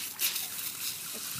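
Water rushes steadily from a water-fed brush connected to a pump hose, a close, continuous hiss and trickle with a brief splash near the start.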